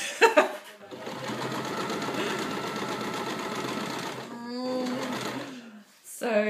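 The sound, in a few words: sewing machine stitching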